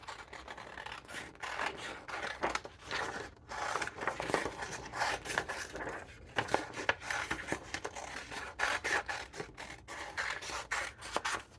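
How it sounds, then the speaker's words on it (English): Scissors snip through glossy magazine pages in quick irregular cuts, crisp close-up scraping and rustling of paper, quiet with no talking. "I'm gonna cut some of this off."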